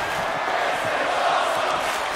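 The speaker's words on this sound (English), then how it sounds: "The crowd is loving tonight's matches!" A wrestling event crowd roaring and cheering in a continuous, dense wash of voices, loud and steady throughout.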